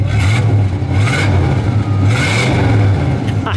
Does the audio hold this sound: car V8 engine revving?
yes